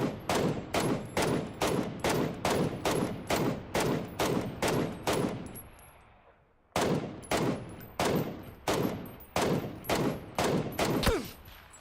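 Rapid, regular bursts of gunfire in PUBG, each shot sharp and loud, firing at an even pace, then fading into a short pause before another string of evenly spaced shots follows.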